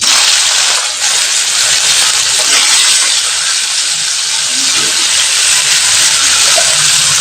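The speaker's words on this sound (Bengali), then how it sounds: "যে সবজিগুলো ভেজেছিলাম সেই সবজিগুলো আমি কড়াইতে একবারে অ্যাড করে দিচ্ছি।" Fried vegetables, including pointed gourd, tipped into a hot wok of oil for a paneer stir fry, giving a loud, steady sizzling hiss that holds without a break and has no voices over it.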